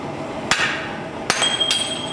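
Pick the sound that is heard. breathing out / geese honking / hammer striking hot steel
hammer striking hot steel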